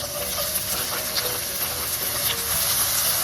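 Onions hitting hot oil in a pan, a dense, loud continuous hiss and sizzle up close with no talking.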